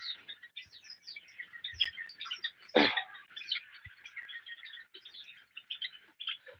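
Java sparrows in a colony bird farm keep up a busy chorus of thin, high chirps and twitters close by, overlapping continuously, with a brief knock or thump partway through.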